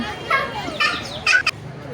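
A few short, sharp bird calls ring out over a busy outdoor background with people talking nearby.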